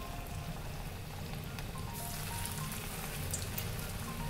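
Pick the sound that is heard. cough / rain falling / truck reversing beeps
rain falling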